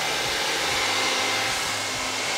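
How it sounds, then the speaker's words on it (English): A hair dryer blows steadily and loudly at close range while being angled downward over long, fine, straight hair, with a constant airy roar and a low motor hum underneath, with no voices. "so I'm twisting the hairdryer around, angling it downwards"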